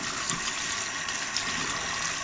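A used twist-knot shaving brush is rinsed under a running tap, giving a steady, close, even hiss of flowing water for the whole moment with no talking.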